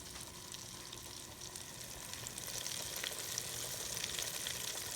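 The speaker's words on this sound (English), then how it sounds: "We're going to let these fry." Seafood sizzles steadily in hot oil in a pan, with a dense, even crackle that holds its level and grows slightly louder, with no voices.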